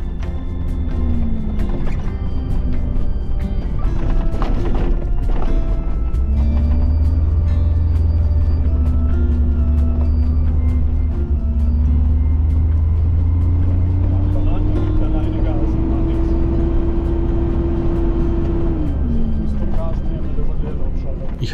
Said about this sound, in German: ich trete nur leicht auf das Gaspedal und der Duro beschleunigt immer weiter